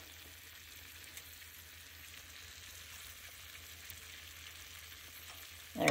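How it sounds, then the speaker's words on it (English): Refried beans sizzle steadily in a pan as they are mashed for breakfast tacos, a soft continuous frying hiss with no talk, ending in a louder burst of scraping at the very end. "There's my beans, and I'm gonna mash them up"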